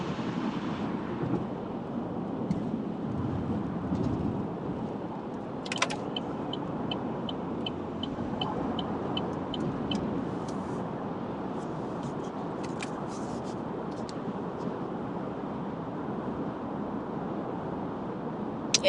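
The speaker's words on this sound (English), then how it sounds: "And I can't even get over to the other lane. So much traffic." Heavy morning road traffic in Orlando, heard from inside a car, forms a steady, loud low rumble of engine and tire noise that fills the whole stretch, with a few faint higher clicks and no talking.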